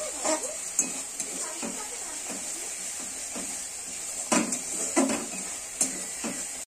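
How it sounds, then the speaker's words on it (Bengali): Katla fish with poppy seed paste stirred in a frying pan, repeated scraping and clinking strokes of a utensil against the pan over a soft continuous sizzle, fairly close. "নাড়িয়ে নাড়িয়ে একটু তেল ছেড়ে দেবে, তখন আমি জল দেব।"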